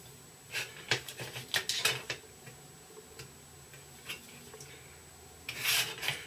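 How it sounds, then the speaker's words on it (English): A fresh blade scrapes burrs off the surface of a Sea Flanker scale model in short, close scratching strokes. The strokes come in clusters, with quiet gaps between and a final burst near the end. "just go over the surface with a fresh blade, just removing the burr"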